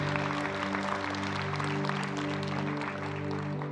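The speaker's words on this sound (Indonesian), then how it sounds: "Boleh kasih tepuk tangan lebih keras" A church congregation applauds loudly and steadily in a large hall, sustained dense clapping with a steady tonal hum beneath it throughout.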